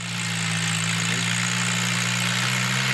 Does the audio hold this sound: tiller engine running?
yes